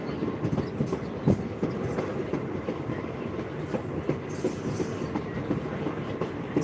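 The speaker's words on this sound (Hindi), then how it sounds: "इस हाईवे के नीचे क्रॉस हुई है हमारे भारत की रेलवे गाड़ी, जो आप सब देख सकते हैं।" An Indian Railways train rolls beneath a highway overpass on the Bajpatti to Muzaffarpur route, its steady clickety-clack of wheels over rail joints continuous and fairly loud throughout, with occasional sharper knocks.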